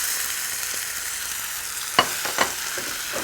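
Carrots sauté in a spicy turmeric glaze, giving a steady close sizzle and frying hiss with a couple of brief stirring clatters partway through.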